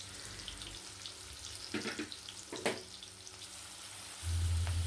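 Chopped onions frying in soybean oil in a pan make a steady hiss, with a few louder crackling sizzles mid-way and a denser, heavier rush of noise toward the end.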